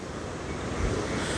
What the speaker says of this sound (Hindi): और दूसरी तरफ ये जो झरना गिर रहा है